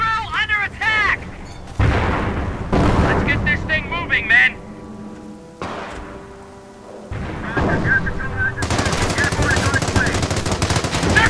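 Video game battle gunfire: rapid machine-gun bursts and heavy shots, some with booming impacts, coming in loud clusters, with players talking over and between the bursts.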